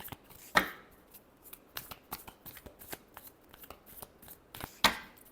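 Tarot cards being shuffled by hand in a quiet room, a run of crisp riffling flutters and snaps with two louder bursts near the start and end, close and alone without talk.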